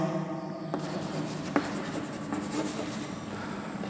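A pen or marker writes numbers by hand on paper or a board, soft close scratching strokes with a couple of sharper taps.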